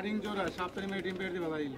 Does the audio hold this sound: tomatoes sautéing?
no